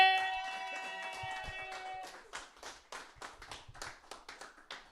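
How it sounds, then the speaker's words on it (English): Scattered clapping from a small comedy-night audience as the final comedian is brought up, sparse uneven claps building into a loose patter, following a lingering musical tone at the start. "Let us bring to the stage with raucous applause, Hunter"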